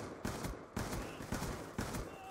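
Rapid bursts of gunfire from Call of Duty: Black Ops 2, several sharp volleys in quick succession over a steady background, loud and close.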